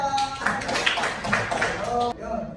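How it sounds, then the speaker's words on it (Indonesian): A classroom of students clapping for a classmate in an Islamic religious education class, brisk overlapping claps close by with voices mixed in, cutting off near the end. "tepuk tangan buat dia"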